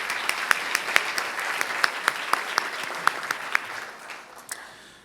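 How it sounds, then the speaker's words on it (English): Applause fills the room at a Buena Park State of the City event honoring Knott's Berry Farm staff, a steady crowd of clapping with several sharp, close individual claps, tapering off toward the end. "A round of applause for the Knott's folks,"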